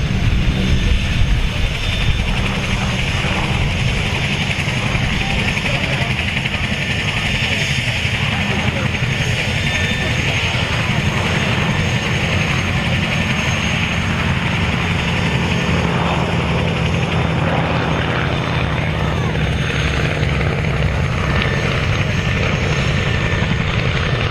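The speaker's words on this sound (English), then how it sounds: "you see just what a slow-flying aircraft this Mark.1" A loud, continuous drone of an Avro Anson Mk.1's twin propeller engines throbbing steadily overhead at Cosford Airshow, a slow-flying aircraft, with a narrator speaking over the roar.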